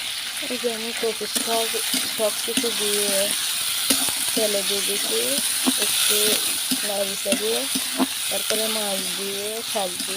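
Hilsa fish fries in a pan, with a steady crackling sizzle and occasional stirring under intermittent speech.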